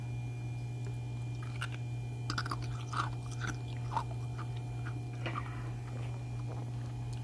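Ice cubes, cloudy and translucent, crunched and chewed up close at a quiet level: a string of wet crunches and squishy bites spread unevenly over several seconds, set against a steady low hum.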